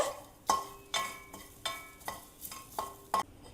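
Lentils dry roasting with curry leaves in a pan for Andhra-style paruppu podi, stirred in a steady rhythm of about eight scraping strokes, each a short bright clink of spoon on metal, close and fairly quiet, with no talk.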